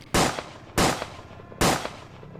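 Three loud gunshots ring out one after another at an even pace, each a sharp crack with a short decaying tail, with no voices.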